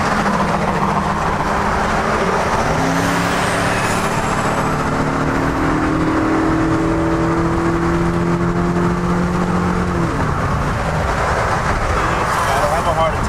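A turbocharged 2002 BMW 330i with a stage 1 turbo kit accelerates hard on a snowy day, a steady loud engine drone with rising gear tones and a shift, under an excited voice.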